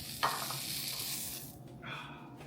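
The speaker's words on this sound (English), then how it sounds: "It's a good sizzle." Food with sriracha sizzling in a hot pan, a bright crackling hiss that flares after a sharp clink, eases, then swells again briefly near the end.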